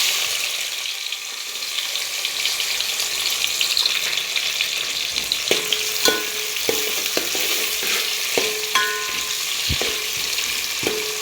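Onion frying in oil in a pan for mutton biryani, a continuous close sizzle with repeated metallic clinks and scrapes of a spoon stirring, no talking.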